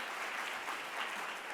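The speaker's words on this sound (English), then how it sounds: "let's give the African Students Union another round of applause" A brief stretch of steady crowd clapping, dense and even, heard at moderate volume from within the audience.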